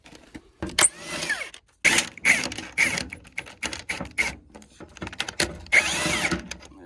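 A power drill drives bolts to mount license plates on an '89 car, in short, loud, close bursts of whirring with clicks and pauses between runs.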